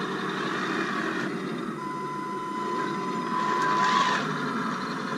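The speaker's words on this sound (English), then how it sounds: "Very gentle with the sticks. This sport-tuned motor." Tamiya 1/16 RC Leopard 2A6 tank with a sport-tuned motor, giving a faint continuous electric whir and grind under a steady background, with a brief tone partway through.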